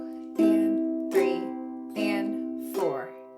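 Four widely spaced strummed chords ring out and decay, played as eighth notes of She'll Be Coming Around the Mountain, with a soft, close sound and no talking.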